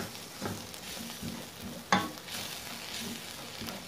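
Ground black pepper, turmeric and garam masala powders frying in a pan for chicken piralan, stirred with a soft steady sizzle and a few quiet scraping strokes, one sharper clack near the middle, fairly faint throughout.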